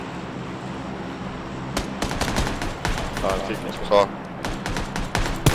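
Rapid bursts of gunfire from the battle-royale video game PUBG, sharp repeated shots in clusters over steady background noise, with players talking in between.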